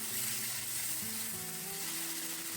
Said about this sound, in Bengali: টমেটো কুচি দিয়ে ভালো করে নেড়ে নিতে হবে